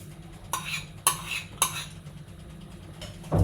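A spoon scrapes and knocks against a pot while milk, cheddar and cream cheese are stirred, giving a few distinct clinks among softer swishing, ending with a louder clunk.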